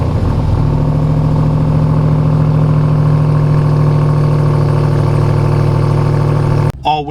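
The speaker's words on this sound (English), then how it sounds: "And the stock exhaust cold start." RAM TRX pickup on its stock exhaust during a cold start, a loud, close, deep steady idle rumble that holds for several seconds before cutting off abruptly.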